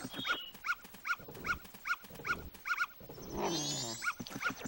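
A dog in the video game Zelda: Majora's Mask gives a steady string of short, evenly spaced yelps and barks, followed by a brief burst of higher game sound effects, fairly quiet throughout.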